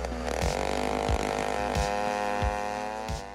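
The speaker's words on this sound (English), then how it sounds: "Wow, check out this impressive chainsaw." A chainsaw engine on a homemade firewood processing machine runs loud and steady, its pitch rising and falling as the throttle revs, with several sharp low thumps along the way.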